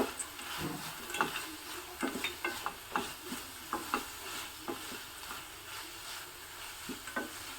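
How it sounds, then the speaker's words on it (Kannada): Peanuts sizzle and crackle in hot oil while a spoon stirs them, giving irregular scraping taps over a steady frying hiss. "ಈಗ ನಾನು ಸ್ವಲ್ಪ ಶೇಂಗಾ ಬೀಜವನ್ನು ಹಾಕ್ತಾ ಇದ್ದೀನಿ"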